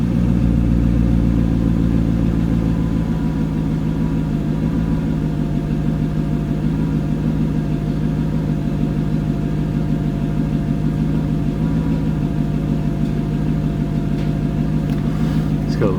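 A 6-speed manual Mercedes C55 AMG idles steadily and close by, its low, even engine rumble holding a constant drone throughout with no revving.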